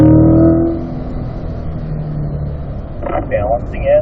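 A race car engine surges loudly as it powers out of turn 10 on a track, then settles into a steady drone, with a driver talking over it.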